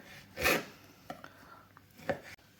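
A knife cuts raw pork into cubes on a board, making two or three soft, close chopping thuds with faint scraping between them and no one talking.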